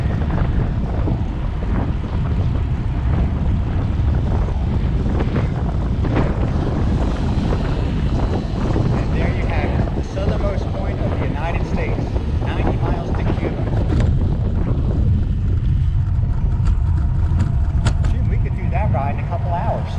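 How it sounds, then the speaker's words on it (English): Steady wind roars across the microphone throughout, a constant low buffeting rush with a boat-like rumble underneath and occasional voices in the background. "A little breezy today."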